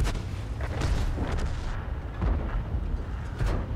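Tank cannon fire in the game World of Tanks, a heavy Soviet IS-6 in battle; several deep booming shots and explosions at irregular intervals, loud and alone without talk.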